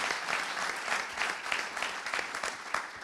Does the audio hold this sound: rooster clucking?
no